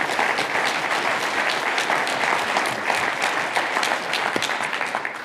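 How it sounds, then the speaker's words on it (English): Steady, dense audience applause fills the room at a business talk and Q&A event, loud and sustained throughout with no voices over it. "Round of applause, please."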